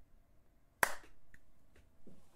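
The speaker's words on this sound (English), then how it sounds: "I'll do a little clap" A single sharp hand clap rings out once, close and crisp, followed by a short room decay and faint background shuffling.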